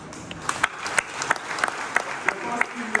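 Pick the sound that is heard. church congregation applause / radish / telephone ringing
church congregation applause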